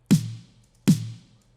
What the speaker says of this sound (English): Then you add the top snare mic.